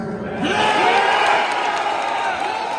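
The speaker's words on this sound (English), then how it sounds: "The crowd goes wild." A large crowd cheers and whoops loudly, swelling into a wild roar with applause-like texture and scattered shouted voices, sustained throughout.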